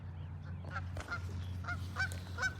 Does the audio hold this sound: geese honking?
yes